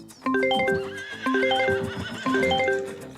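Horses neighing in the farming video game Farming Simulator 25, three loud, close whinnies in quick succession, each a shrill descending call with clip-clop of hooves underneath.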